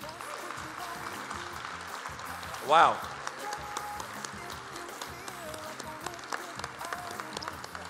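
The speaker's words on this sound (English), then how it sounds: "a final round of applause from you" At an eco-fashion gala, the crowd gives the designers a final round of applause, steady clapping running beneath talk, with one brief vocal exclamation rising partway through.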